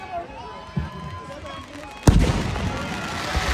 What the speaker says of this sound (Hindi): आप भी अपनी आतिशबाजी प्रारंभ करें